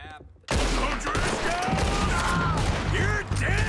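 Gunshots in Red Dead Redemption 2 break a quiet moment with a sudden loud blast, followed by sustained heavy gunfire and echoing shots under whooshing game effects.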